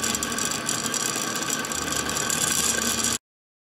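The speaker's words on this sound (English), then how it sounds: "With a vertical orientation and this long horizontal field, we turn on the Dremel." A Dremel rotary tool runs continuously with a test magnet nearby, giving a steady close mechanical whir with a ratcheting buzz that cuts off abruptly near the end.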